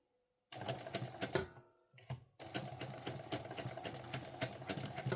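Sewing machine stitching a fabric sling pouch, a steady rapid mechanical whir and needle chatter that starts abruptly, pauses briefly midway, then resumes loud and continuous.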